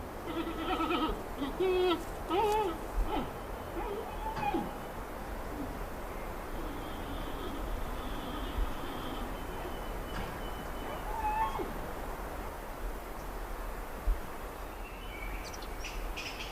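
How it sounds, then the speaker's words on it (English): Wild giant pandas bleating and chirping in mountain forest, a few short tonal calls rising out of steady broadband ambience, distant and faint rather than close. "the sound of loud bleating and chirping raises hopes of a chance to get close enough to study them"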